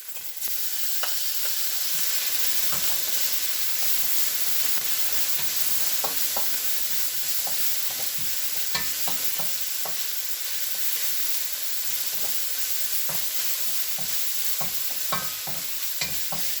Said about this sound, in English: So next what I'm going to add is my minced garlic.